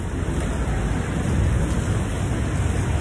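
Sudden rain pours down as a dense, steady hiss of noise, heavy and close throughout, with no voices.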